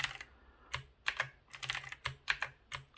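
Keys on an NKEY R3 RGB backlit mechanical gaming keyboard are pressed one after another, giving close, crisp clicky strikes in an irregular rhythm with short pauses, with no talking.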